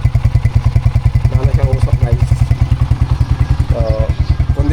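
A motorcycle engine runs steadily during break-in, loud and close, its throbbing exhaust pulse even and rhythmic throughout.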